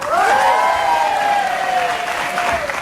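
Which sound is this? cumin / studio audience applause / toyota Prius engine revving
studio audience applause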